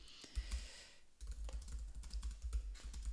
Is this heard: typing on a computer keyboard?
yes